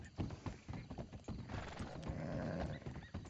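A horse in the video game Red Dead Redemption 2, rhythmic hoof clip-clops at close range with a whinny in the middle, moderately loud with faint voices beneath.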